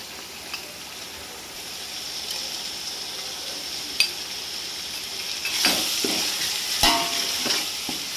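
A khichdi pan sizzles steadily as turmeric is added and stirred in, with soft scraping and a few sharp metallic clinks of the spoon against the pan over a continuous frying hiss.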